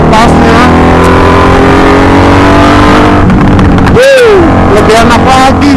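A 1984 Honda Magna 750cc V-twin motorcycle, loud and close, drones under throttle. It then rolls off with a burbling, popping deceleration and a swooping drop in pitch.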